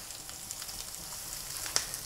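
Carbonara ingredients with parsley sizzle in a frying pan, a soft steady crackling hiss with a few sharper pops, faint and heard alone.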